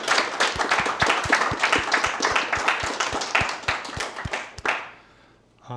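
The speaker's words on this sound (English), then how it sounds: "Give Zalan another big handful of applause for." Audience at a software testing talk claps for the speaker, a fairly close, loud burst of distinct individual claps with a sparse rhythm that stops abruptly, leaving near silence.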